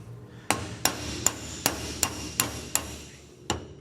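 A bearing cap is driven into a double cardan joint from a 1996 Toyota 4Runner with eight sharp, ringing metal hammer blows at a steady pace, the last after a short pause, close and loud with no speech.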